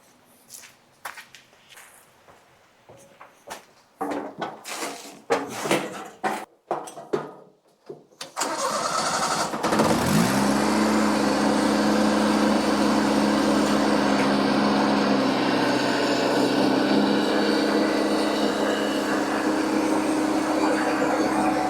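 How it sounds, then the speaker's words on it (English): A few footsteps and clunks, then a tractor engine cranks and catches, settling into a loud, steady diesel rumble that runs to the end. "Then I'll start up the tractor"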